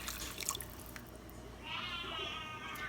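Water poured into a pot of rice for Puerto Rican arroz con gandules, a steady close trickling splash that starts partway through and runs to the end after a few light clatters.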